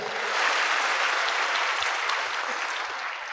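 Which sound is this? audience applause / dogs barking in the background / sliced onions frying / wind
audience applause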